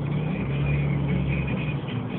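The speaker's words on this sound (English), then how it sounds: "all-wheel drive Lexus trying to avoid that stranded car" An all-wheel drive Lexus drives through snow in a blizzard, edging around a stranded car; a steady engine drone with low rumble runs throughout, moderately close, with no voices.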